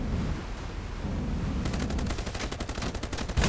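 Gunfire striking a rubber boat in the video game Age of Water, a rapid burst of repeated hits that starts partway through and keeps rattling over a constant engine-like rumble, close and loud.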